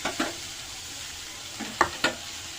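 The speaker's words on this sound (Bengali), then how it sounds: "ভাজা হচ্ছে।" Chopped meat with garlic and chili frying in hot oil in a wok, a quiet continuous sizzle broken by a few sharp stirring scrapes, with no voices.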